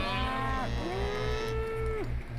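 Cow mooing in the video game We Love Katamari, two drawn-out, clear moos in succession over a pulsing, looping game soundtrack.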